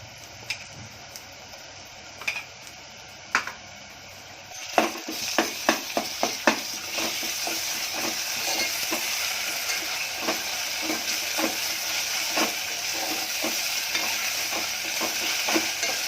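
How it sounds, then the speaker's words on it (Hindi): Steady sizzling of ginger garlic paste frying in a pan, with a run of sharp clicks and taps from stirring partway through; no voices. "अदरक लहसुन को थोड़ी भून ली।"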